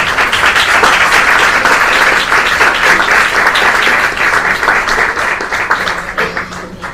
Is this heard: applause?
yes